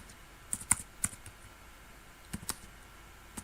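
Typing on a computer keyboard, a few scattered key clicks in two short bursts, close and crisp over a quiet background.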